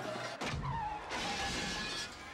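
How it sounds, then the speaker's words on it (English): Cartoony crash sound effects from an animated Disney film as guards back up, with busy layered clatter and impacts, a sharp hit near the start and a dense continuous din of crashes and whirring throughout. "You have all those guards backing up with like car crashes and little airplanes"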